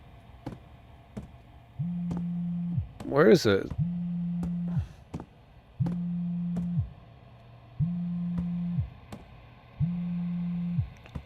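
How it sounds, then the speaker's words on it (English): Phone ringing in the video game Dread Neighbor: five steady electronic ring tones repeat at even intervals under faint ticking, with a brief burst of other game noise early and someone talking quietly. "My phone's ringing."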